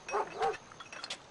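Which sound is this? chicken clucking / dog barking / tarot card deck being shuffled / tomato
dog barking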